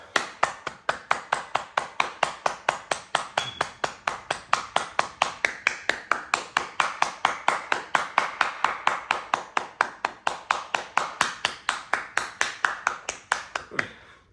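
Hands clapping in a steady, even rhythm during a yoga session, dozens of sharp, close claps repeating at a regular pace for about fourteen seconds before stopping.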